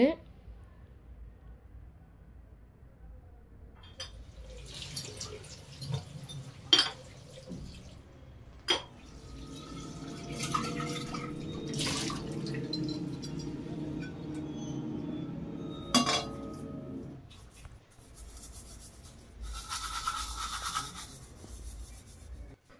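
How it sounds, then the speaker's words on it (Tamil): An oily kitchen container is scrubbed with a steel scrubber and rinsed with water, giving faint scratchy rubbing strokes, occasional clinks and a stretch of running, splashing water, quiet and intermittent. "ஸ்டீல் ஸ்க்ரப்பர் வச்சு ஃபஸ்ட்டு மேலே இருக்கிற இதெல்லாம் எடுத்துகிட்டு அகைன் திரும்பியும் நார்மல் ஸ்க்ரப்பரில் வச்சு நல்லா வாஷ் பண்ணேன்"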